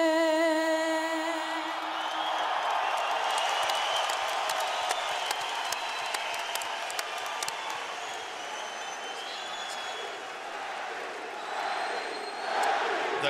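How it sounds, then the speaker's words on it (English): A large boxing-arena crowd roars and cheers steadily before the Manny Pacquiao vs David Diaz fight, with rhythmic chanting and scattered whistles rising above the continuous din. "The crowd chants for their man."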